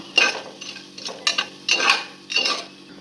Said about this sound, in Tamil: பருப்பு நல்லா கோல்டன் கலரில் ஃப்ரை ஆகிடுச்சு.